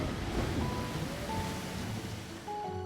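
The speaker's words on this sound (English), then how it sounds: "So in 3 places on this ride, at the bottom of that drop, this drop, and the drop over here, I've got time-triggered splashes." A time-triggered water splash on a ride in a video game gives a broad, steady wash of rushing water, loud and close, alone without talk.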